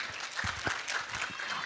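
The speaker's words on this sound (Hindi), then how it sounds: "एक बार फिर से जोरदार तालियां हो जाए हमारी ओगुल लंकम के लिए।" Brief burst of clapping from a studio audience at a televised singing contest's dance song round, honouring a contestant, dense and moderately loud for under two seconds.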